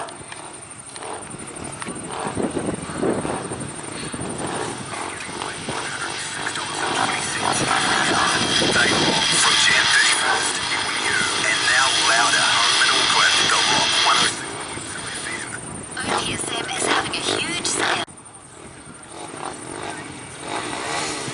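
A junior solo speedway motorcycle firing up at a Rosebank speedway meeting, its engine rasping and revving at a distance, with a voice talking over it.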